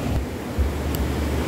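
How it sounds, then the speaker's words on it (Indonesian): Big ocean waves roll in at Ammani Beach in Pinrang, a steady low rumble of surf mixed with wind noise buffeting the microphone, continuous and fairly loud for a brief moment. "Ini ombaknya besar sekali nih."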